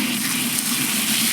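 Dusty RV air filters being rinsed off with a steady, loud, close rush of spraying water, continuous with no pauses.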